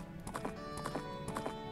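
Video game horse hooves in The Legend of Zelda: Majora's Mask, quick rhythmic clip-clop galloping in repeating groups of beats, fairly faint with a steady music or ambient bed underneath.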